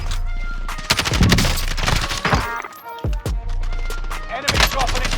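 Gunfire in Call of Duty Modern Warfare 2 gameplay comes as loud bursts and rapid cracks over a constant low game rumble, with game voice lines heard between shots.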